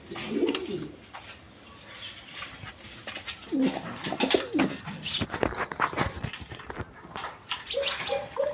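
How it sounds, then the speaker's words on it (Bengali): A pair of German Beauty pigeons coo in low, throaty bursts, repeating several times at close range over rustling and shuffling background noise. "এখানে এক পেয়ার কবুতর আছে বিউটি কবুতর জার্মান বিউটি"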